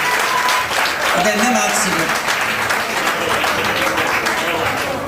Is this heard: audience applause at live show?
yes